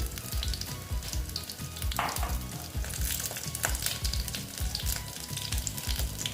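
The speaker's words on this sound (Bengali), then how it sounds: "এই গোটা আগে ভেজে নিচ্ছি" Ridge gourd pieces fry in a pan with a loud, close crackling sizzle, punctuated by repeated knocks and scrapes of a spatula turning them.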